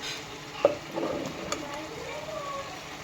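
Fish curry made with freshly cleaned, cut fish cooking in a pot, a soft continuous simmering sizzle with a faint clink near the start and light stirring sounds, fairly quiet and steady.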